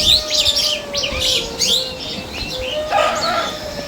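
A small bird chirps as it is released by hand outdoors, giving a string of quick, bright tweets over steady background noise, with no talking.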